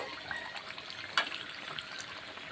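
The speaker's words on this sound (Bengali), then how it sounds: "কষানোটা এবার আমি জল দিয়ে দিচ্ছি বন্ধুরা।" Water pours into chicken curry cooking in a pan, a soft, faint trickling splash with a brief louder slosh partway through and no voices.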